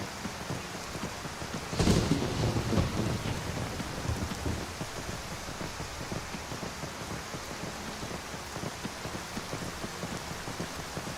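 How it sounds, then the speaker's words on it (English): A horrible, rainy winter storm in the video game Skyrim VR: a rumble of thunder swells early and rolls away, over constant heavy rain hissing steadily throughout, with no one talking. "because it's all horrible and rainy"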